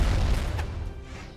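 A cannon fires in a video game during a Winter Championship singles match, one deep, loud boom that rolls away and fades over about a second.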